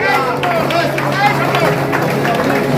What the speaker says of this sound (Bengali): একটু জোরে হাততালি এই মুহূর্তে